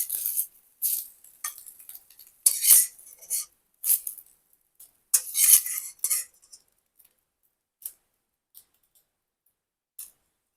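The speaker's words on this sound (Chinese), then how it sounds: "把鸡蛋炒熟盛出来" Metal utensils clink and scrape against a pan while eggs are stir-fried for spicy chili eggs, in quick irregular bright taps and scrapes, close and clear, thinning out to occasional single clinks with quiet between.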